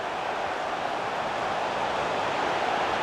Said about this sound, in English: The crowd encouraging him to take it on.